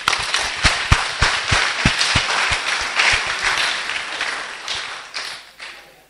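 A church congregation applauds together for several seconds, a dense spread of clapping with a few sharper claps standing out near the front, then slowly thinning toward the end.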